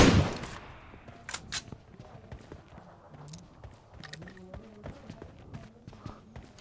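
Gunfire in a battle royale video game, heard as scattered sharp shots and short bursts at moderate to faint level, with small clattering footstep-like sounds between them and no clear talking.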